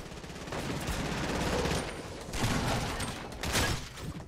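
Video game combat with a grenade explosion and gunfire: dense, rapid bursts of shots and blasts overlap continuously, loud and close, with heavier booms roughly every second.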